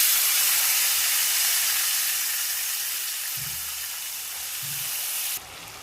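Chopped potatoes hit hot oil seasoned with asafoetida and curry leaves, setting off a strong, steady broadband sizzle that slowly eases and then cuts off abruptly near the end.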